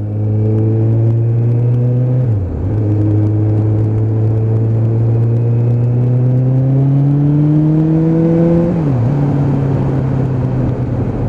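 A Suzuki Bandit 600 motorcycle with a carburettor issue accelerates hard through the gears, its loud, close engine note climbing steadily with two brief dips at the gear changes, then pulling smoothly again.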